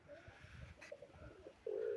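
A young pigeon coos softly nearby, low murmuring calls with a louder sustained coo at the end, against a quiet background of faint rustling.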